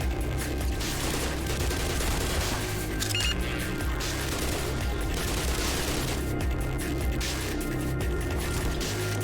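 Gunfire in the video game Black Mesa: sustained bursts of automatic weapon fire and crashing impacts, with booms and dense clatter continuing throughout with hardly a pause.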